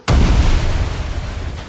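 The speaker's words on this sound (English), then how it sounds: "To save his glorious God-a-King, Captain America dives on top of it, absorbing the full explosion into his body." A grenade goes off in a war movie with a single loud, sudden blast followed by a long, rumbling decay. No voices are heard.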